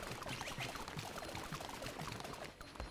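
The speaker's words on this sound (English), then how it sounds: "It sounds like I'm running around on the water." Splashy, rapid footsteps running through shallow water in the video game Cult of the Lamb, a quick, continuous patter of small sloshing steps at close range.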